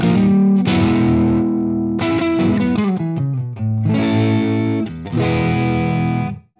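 An electric guitar on its neck pickup plays through a low-gain amp in a warm, Hendrix-style tone, with chord stabs and short melodic phrases ringing out, full and close, with no talk.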